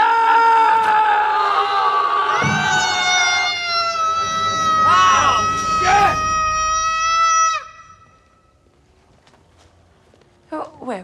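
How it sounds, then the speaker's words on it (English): A child screams after a nightmare, long loud wailing cries with shifting pitch over several seconds, then fading to quiet with a faint rustle at the end. "I thought I heard you screaming, too."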